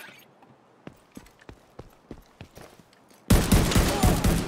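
Gunfire in The Division 2 video game: a run of single sharp shots spaced irregularly, then a sudden loud, dense burst of sustained firing near the end.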